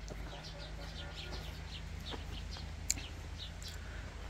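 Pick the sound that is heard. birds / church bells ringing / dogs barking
birds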